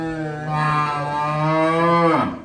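A pregnant heifer on a dairy farm in Moga, Punjab, gives one long, loud, close moo that holds steady before dropping off at the end.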